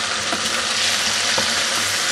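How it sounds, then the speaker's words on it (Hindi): Meat and taro root (arbi) frying together in a pan for a gosht salan, a dense continuous hissing sizzle with faint stirring knocks, close and steady, with no voices. "देखिए हमारा गोश्त जो है ना वो भून चुका है, अरबी भी हमारी भून चुकी है।"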